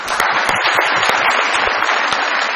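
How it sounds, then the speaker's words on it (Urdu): Studio audience applause for Makhdoom sahib on a TV comedy show: a dense, steady burst of many hands clapping, fairly loud and continuous for the whole stretch, with no voices over it. "بہت ساری تالیاں جی مخدوم صاحب کے لیے"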